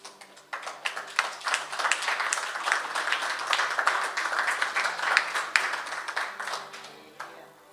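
A church congregation breaks into applause, many hands clapping in a steady, full burst that swells quickly, holds, then tapers off near the end.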